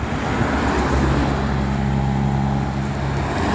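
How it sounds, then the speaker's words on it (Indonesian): A Metropolitan tour bus rolls along a road amid traffic, its engine a loud, close low rumble with steady road noise. "Metropolitan bus pariwisata."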